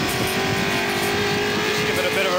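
Dick Johnson's Tru Blu MkII race car engine revs up in a loud, sustained roar with a rising, strained tone, close and constant throughout, no pauses.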